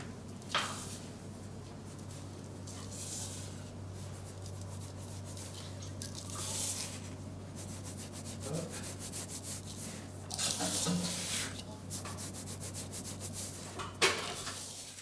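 Egg whites are whisked with caster sugar in a bowl, giving a continuous soft whisking and rubbing texture at close range, with occasional louder scraping strokes against the bowl over a low steady hum.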